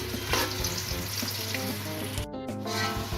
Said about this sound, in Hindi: अब इसमें मैं प्याज लाल करूंगी।